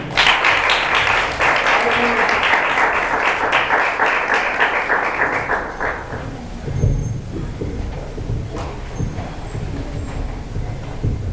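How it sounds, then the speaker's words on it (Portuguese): A church congregation claps loudly in dense, steady applause for several seconds, then the clapping fades out and scattered voices and room noise follow. "As palmas louvam o Senhor."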